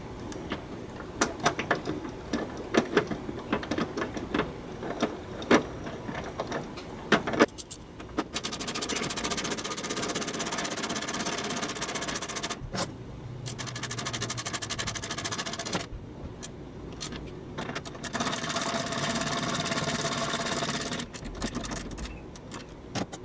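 A 1997-2004 Ford F-150 engine, after a stretch of scattered clicks and knocks, settles into a steady, even running drone that continues with a few brief dips, close to the listener and without talk.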